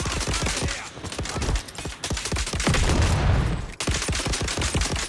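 Gunfire from the third-person shooter Dune: Awakening comes as dense, loud volleys of rapid shots with booming impacts, broken by a short lull before more bursts.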